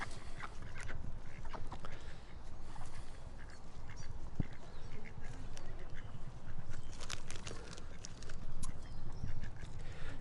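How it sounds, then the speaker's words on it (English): A greedy duck quacks repeatedly over a dense, noisy outdoor background, its calls mixing with steady rustle and shuffling throughout. "You're a greedy little duck, aren't you?"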